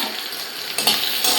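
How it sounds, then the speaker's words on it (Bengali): Potatoes fry in hot oil in a pan for a home-cooked greens and rice meal, giving a steady, close broadband sizzle that grows louder partway through the short stretch. "এখন আলুটা একটু ভাজা হোক"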